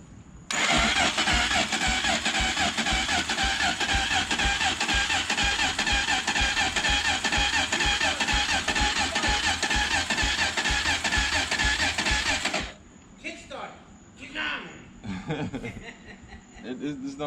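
Honda TRX 400EX ATV engine running after an electric start, a loud, steady mid-pitched drone that holds for about twelve seconds, then cuts off, with people talking afterward.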